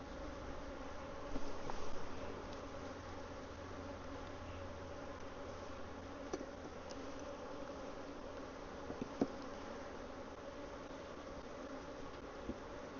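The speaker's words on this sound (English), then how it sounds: "Bees are all over the camera." Honey bees at a hive swarm around close by, making a dense, continuous buzzing hum with occasional louder passes and small clicks, no voices.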